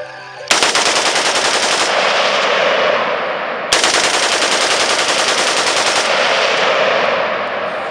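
Two sustained bursts of rapid automatic gunfire from a firearm, loud and close, each rattling on for about three seconds with no talk.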